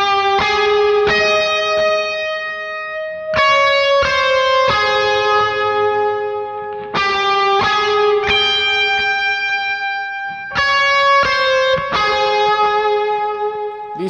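Bright, effect-laden electric guitar plays an intro, a repeating phrase of struck chords and ringing notes, cycling four times with a slightly distorted, shimmering tone.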